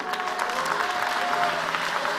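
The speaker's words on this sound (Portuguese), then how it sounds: "As palmas são para Jesus." Church congregation applauding at the close of a Brazilian evangelical sermon: steady, dense clapping from a sizeable crowd, fairly close and sustained throughout, with a faint murmur of voices mixed in.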